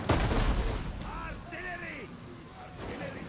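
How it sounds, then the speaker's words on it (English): Ship-mounted ballistae in Total War: Rome II, during a Carthage campaign battle, fire at loose skirmisher groups. A heavy booming shot opens, then fades under someone talking. "I might fire some shots at these skirmisher groups"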